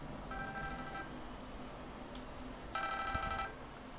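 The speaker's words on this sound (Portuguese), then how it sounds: "Ó, ele tá ligando, ó." Phone ringing with an incoming call, two bursts of electronic ringtone, each under a second long, quiet over a faint background hiss.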